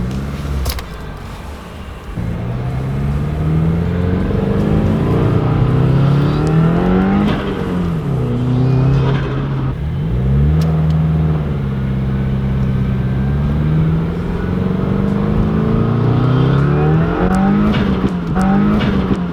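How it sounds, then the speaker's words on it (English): A lowered Subaru is driven hard, its engine loud and close as it revs up and down through the gears, with sharp exhaust pops and crackles cutting in, especially toward the end. "I don't know if you guys heard the pops in that, but oh my gosh, it is like a machine gun."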